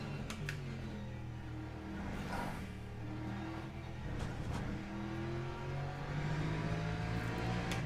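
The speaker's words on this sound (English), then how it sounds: "There we go, a little burnout. Get some heat in those rear tyres." A race car doing a burnout in the pit lane in the racing game Le Mans Ultimate, engine revving with rising and falling tones and a few sharp transient bursts, steady and moderately loud with no talking.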